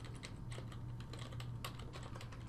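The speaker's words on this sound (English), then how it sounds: "we're just going to be typing in some URLs here" Steady typing on a computer keyboard, with a continuous patter of key clicks at an even pace and no voices.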